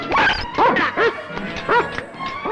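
Dogs bark close and loud in several sharp, yelping bow-wows in quick succession during a tense movie climax scene.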